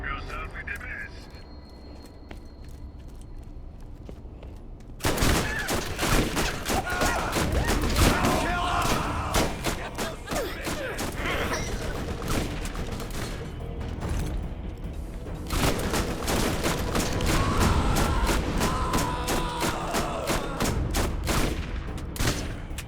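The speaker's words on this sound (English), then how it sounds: "I don't know why I was shooting the corpse." Gunfire in Borderlands erupts after a quieter opening, dense rapid shots and bursts stacking with mechanical clanks and thuds, loud and continuous with brief lulls, while a voice talks over parts of it.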